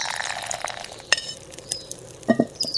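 Chole stirred into a miniature cooking pan in a tiny doll kitchen, close and quiet, with soft scraping, light clinks of a small utensil against the pan and faint wet sizzling.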